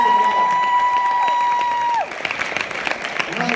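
A live audience at a coaching event bursts into loud, sustained applause and cheering for a guest speaker, a dense wash of clapping that continues throughout, with a held musical tone ringing under it for the first two seconds before dropping away.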